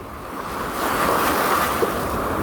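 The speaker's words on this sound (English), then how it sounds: "right where the waves are crashing, the undertow is bad" Ocean waves crash steadily on Negombo beach in Sri Lanka, a continuous loud wash of surf with some wind noise over the microphone and no voices.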